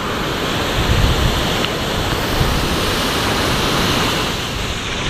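A swollen river rushes hard around a small prayer house in Lembah Anai, West Sumatra, a week after a devastating flash flood. The roar is loud, close and steady, with no pauses and no voices.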